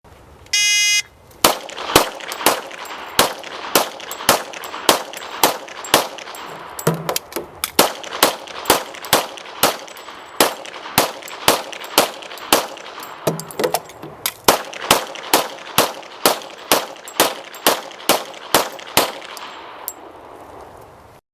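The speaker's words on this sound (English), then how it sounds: "Now our demonstrator, Jim, will be firing 10-round magazines on our 3 targets." A firearm fires three 10-round magazines at three targets, giving about thirty sharp, evenly spaced reports in three bursts, with brief pauses for magazine changes between them, fairly close and loud, with no talking.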